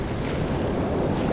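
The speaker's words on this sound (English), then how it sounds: "very strong drift from left to right, very windy here" Strong wind buffets the microphone while waves churn on the water at a fishing spot, making a dense, continuous rushing roar close by with no voices.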